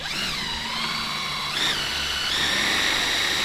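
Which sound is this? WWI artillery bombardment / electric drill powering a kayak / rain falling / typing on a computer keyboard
electric drill powering a kayak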